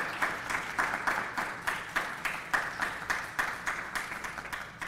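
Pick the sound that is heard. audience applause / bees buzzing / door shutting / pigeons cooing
audience applause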